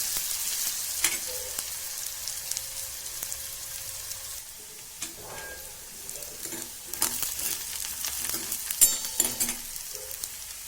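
Chopped onion sizzles steadily in a hot pan for a spinach bhaji, with a broad hiss throughout and occasional clinks of a spoon as it is stirred, close and fairly quiet with no voices.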